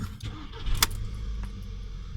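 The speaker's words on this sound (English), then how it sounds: "Now if we go ahead and start the vehicle up" An Audi A3 with a check engine fault cranking and starting, a short sharp burst of starter noise settling into a low steady idle hum, close by with faint interior clicks.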